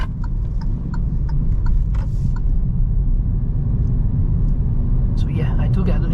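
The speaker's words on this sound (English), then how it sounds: "I do get a lot of tire noise, but the road condition over here, which in the particular area I'm test driving, it is a little bit rough" Steady low rumble of tire and road noise inside a 2022 Kia Stonic 1.4-litre being driven over a rough road surface, continuous throughout with faint ticks above it.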